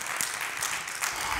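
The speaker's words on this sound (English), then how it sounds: "Let me just give a hand clap for my wife." A church congregation claps steadily for a minister's wife during a sermon, a dense, continuous round of applause from a crowd that holds at an even level throughout.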